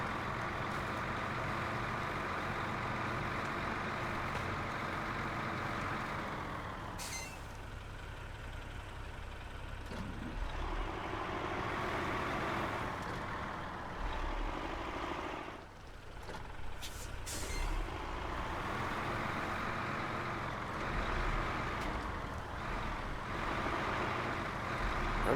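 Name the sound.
truck engine with trailer, throttle feathered, from a video game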